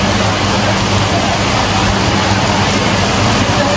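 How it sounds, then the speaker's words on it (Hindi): Heavy rain pours steadily down on an outdoor band setup, a dense, loud, unbroken hiss with no pauses and no voices. "बहुत जोरों से बारिश आ रही है"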